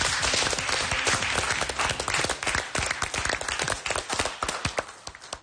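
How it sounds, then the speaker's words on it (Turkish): A studio audience at a Turkish television hairdressing competition gives a sustained round of applause, dense and close, with many overlapping claps that thin out slightly toward the end. "Bir alkış alabilir miyiz?"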